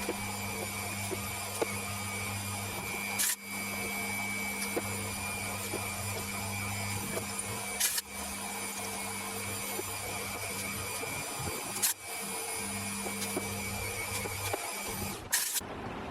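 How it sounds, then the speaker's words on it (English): A power drill whirs steadily and continuously at close range, countersinking holes for M3 screw heads in an engine build, with a few brief pauses and clicks as it stops and restarts. "I'll get in and countersink them now for the heads of some M3 capsules."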